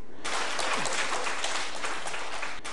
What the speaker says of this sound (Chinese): 此话一出，现场便响起一阵掌声。